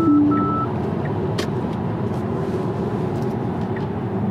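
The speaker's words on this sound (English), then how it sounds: "That was the blind spot warning chime or not?" Short electronic warning beep from a Tesla car's blind spot alert while driving on a highway, sounding once near the start and fading after a fraction of a second, leaving steady road and cabin rumble that continues alone.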